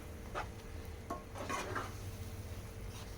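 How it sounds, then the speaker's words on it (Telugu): Suji custard barfi mixture of semolina being stirred in a pan, soft scraping strokes and faint sizzling under a low background hum, quiet and close with no talking. "కొంచెం బాగా కలుపుకుంటూ ఉండాలి"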